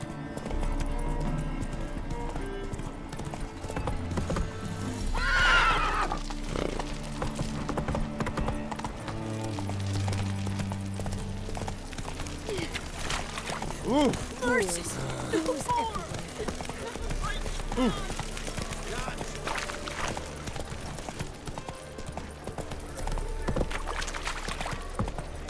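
Roach, a horse ridden in The Witcher 3, clip-clops steadily for the whole stretch, with music and game ambience beneath and some speech mixed in.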